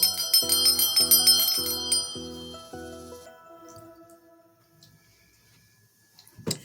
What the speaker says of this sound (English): let me go on ahead and get my bell